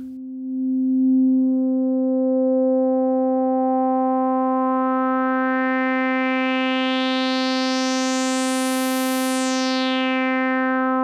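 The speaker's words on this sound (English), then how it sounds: "Nice, nice to hear those harmonics ring now." A saw wave runs through an Electro-Smith 2144 resonant 4-pole low-pass filter kit as a loud, sustained buzzy tone. A ringing resonant peak sweeps upward through the harmonics, whistling brightly at the top before falling back. No voices are heard.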